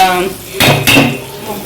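A spoon scrapes and clanks twice against a pan while stirring masala gravy into a pomfret fish fry, two short metallic knocks close by.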